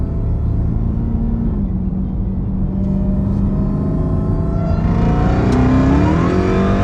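A Jeep Trackhawk at a race track pulls hard, its engine roaring loud and close as the pitch climbs steadily, dips at a gear change and rises again under continuous acceleration, with no voices.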